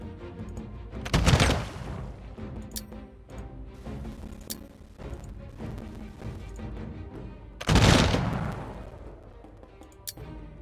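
Gunfire erupts during a battle in the strategy game Humankind, with two loud volleys at moments apart and sparser shots and clatter of combat continuing in between.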